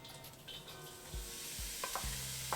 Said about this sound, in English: We have our oil melted. Now we'll add the onion